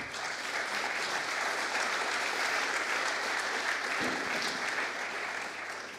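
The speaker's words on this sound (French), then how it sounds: "je voudrais d'abord peut-être qu'on applaudisse Monsieur le maire" Sustained applause from a crowd at a talk with a mayor, steady dense clapping filling the whole stretch without pause, fading slightly at the end.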